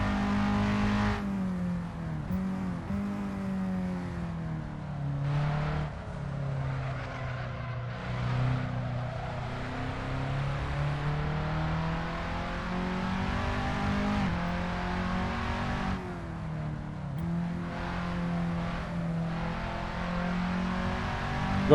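Race car engine droning steadily at high revs around Laguna Seca in the Assetto Corsa racing game, a Skip Barber car, pitch rising and falling with brief lifts through corners, continuous and close throughout.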